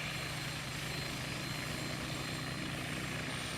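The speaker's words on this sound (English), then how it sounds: "You're just missing the sound of a helicopter." A helicopter drones steadily nearby, its continuous rotor and engine roar holding at an even, fairly quiet level throughout, with no voices.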